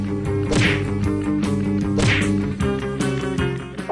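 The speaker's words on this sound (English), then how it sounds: "What did I say about the whip, Wendy?" Repeated sharp whip cracks land over a steady music bed, with the loudest snaps about one and a half seconds apart and fainter cracks in between.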